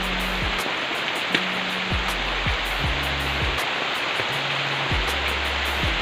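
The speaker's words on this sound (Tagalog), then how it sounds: "Lakas na ng ulan dito mga idol." Heavy rain pours down in a dense, constant hiss, loud and unbroken, with a few faint low tones underneath and no voices.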